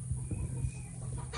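Backyard chickens cluck and squawk briefly, close by, while being chased by a Great Dane.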